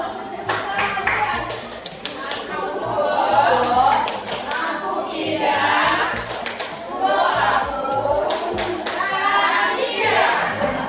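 An audience of adults at a teachers' practice session claps hands in a scattered, sustained round of moderate loudness, mixed with voices and some children's chatter nearby.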